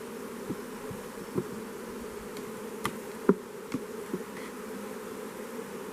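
Honey bees hum steadily around an opened hive, a close, continuous drone overlaid with scattered sharp ticks and clicks from frames being handled.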